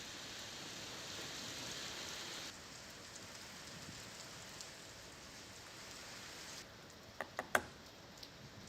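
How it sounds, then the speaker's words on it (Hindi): Heavy rain pours down steadily during a cloudburst in Ramban, Jammu and Kashmir, a dense hiss that drops slightly partway through, with a few sharp clicks near the end. "बारिश लगातार हो रही है।"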